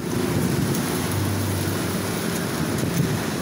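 Heavy rain pours steadily during a thunderstorm with strong wind in Haripur, Pakistan, a dense continuous roar with a low rumbling undertone and no voices.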